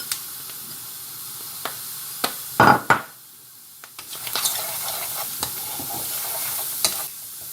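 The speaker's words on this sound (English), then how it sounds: "Now we've got rid of the moisture from these mushrooms, pop those onions in." Onions dropped into a pan of mushrooms already cooked dry, for chicken supreme, land with a loud burst. A steady hiss follows, with scattered scrapes and knocks of stirring.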